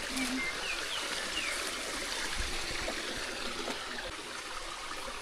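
Water from a garden hose splashing onto soil in a potato patch, a steady, rushing trickle that runs without a break, with faint birdsong and distant sounds in the background.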